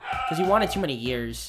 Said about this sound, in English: I apologize for the barking, by the way.